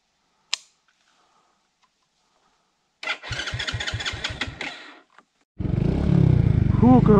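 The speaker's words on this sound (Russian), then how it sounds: "Газовал и завелся все-таки с электростартера." Enduro motorcycle cranks on its electric starter in rhythmic pulses, stops, then catches and settles into a loud running idle with revving, after a sharp click at the start.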